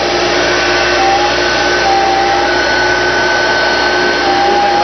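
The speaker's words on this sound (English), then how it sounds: "But what I got here is just an extractor." A carpet extractor sucks up a spill on carpet, giving a loud, steady, unbroken roar of suction and motor whine close by, with no talking.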